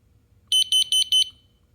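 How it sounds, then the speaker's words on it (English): A wireless interconnected smoke detector gives four short, loud, evenly spaced electronic beeps close by, with quiet around them. "And it does its 4 beeps again."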